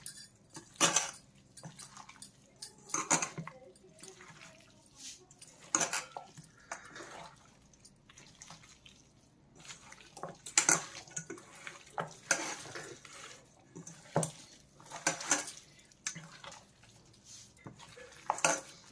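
Chicken for natukodi pulusu is mixed by hand with onion paste, ginger and coriander powder in a dish, giving repeated wet squelching, scraping and occasional clinks at an irregular pace, close and fairly quiet.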